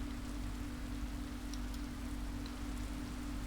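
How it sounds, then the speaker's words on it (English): Quiet, prolonged drizzle of rain in the Tsukihime visual novel, a steady soft wash of falling drops heard alone over a low constant hum. "I can hear the sound of the rain in the distance. It's a prolonged, quiet drizzle."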